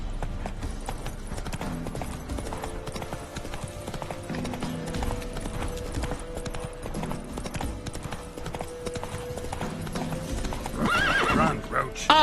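In The Witcher 3, the horse Roach gallops with rapid rhythmic hoofbeats, joined by a loud whinny near the end, while someone talks over it and game music plays faintly underneath.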